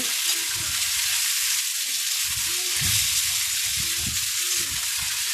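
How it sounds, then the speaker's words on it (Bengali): Steady, loud sizzling of potato and green banana frying in hot oil, with a continuous hiss and occasional low bubbling pops throughout. "কেটে রাখা আলু আর কাঁচকলা জলে ছিল তুলে নিয়েছি এটা আমি দিয়ে দিলাম তেলের মধ্যে"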